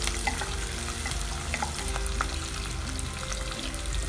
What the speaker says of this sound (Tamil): 2 நிமிஷம் பூண்டு நல்லா வதங்கினதும்